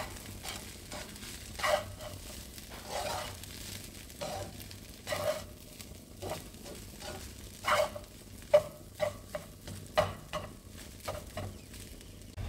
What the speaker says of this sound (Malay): Teruslah dikacau-kacau lagi sehingga sebati.